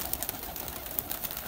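Kasoori pigeons in a loft in Bakshi Nagar, Jammu and Kashmir, give short, soft coos with light clicks and flutters over a faint, even hiss.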